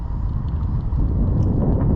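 Steady breeze buffets the microphone outdoors on a cloudy afternoon beside a Ram Promaster van, a continuous loud low rumble with no pauses and no talking.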